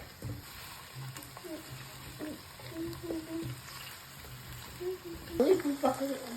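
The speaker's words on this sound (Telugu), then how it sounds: "కొంచెం లైట్గా వేగనిద్దాం." Ingredients for an egg and drumstick curry fry lightly in oil, a quiet, soft sizzle with occasional stirring scrapes, while a voice talks over it.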